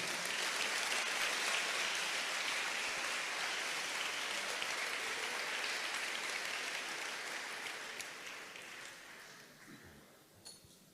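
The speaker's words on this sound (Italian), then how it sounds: "Vamos, aplauda al Señor." A church congregation claps in praise during a bilingual service, a dense, steady wash of applause that slowly fades toward the end with a brief clink near the close; no speech.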